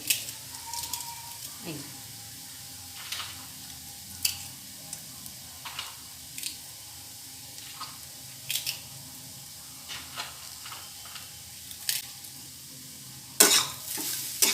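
Radish with crumbled bori frying in a pan while being stirred, a soft underlying sizzle broken by irregular spoon scrapes and clicks, with a sharper clatter near the end.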